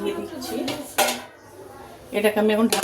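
A lid set on a pot of coconut-milk pulao, bright metallic clinks and clatters of cookware close by, interleaved with someone talking.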